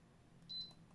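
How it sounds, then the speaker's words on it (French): Single short, thin electronic beep from the timer of a VEVOR portable heat press, faint and alone over a quiet background hum. "et vous entendez, vous avez un bip."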